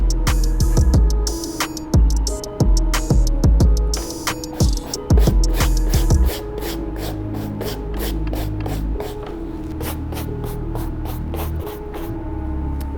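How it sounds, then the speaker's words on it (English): A medium brush scrubs dry dirt off a Nike Blazer sneaker in quick, close, rhythmic strokes, loud at first and then lighter and steadier. "I'm gonna take the medium brush and just dry brush it to try to get as much dirt off of the shoe"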